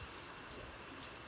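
Rain comes down in a faint, even hiss that holds steady throughout the brief stretch, with no other distinct sounds.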